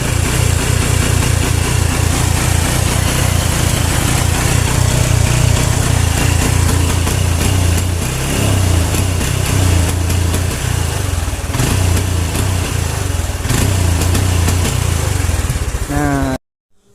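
A Honda Revo motorcycle engine with a weak charging system runs loud and close, a steady buzzing idle with slight revving swells that stops abruptly at the end, with someone talking over it.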